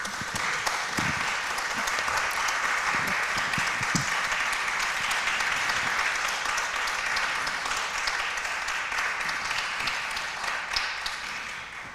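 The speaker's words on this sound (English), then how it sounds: "can we give our panelists a round of applause?" Audience at an LGBTQ+ and disability community conversation applauds its panelists, a steady, dense round of clapping that fills the room for the whole stretch, with a few sharper nearby claps early on, then tapers slightly at the end.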